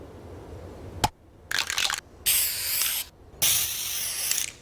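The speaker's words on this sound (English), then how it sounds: "This is a super cool spray can." Cartoon-style spray can from Futurama, giving a sharp click and then three loud hissing spray bursts, each about a second long, with short gaps between them and no voices.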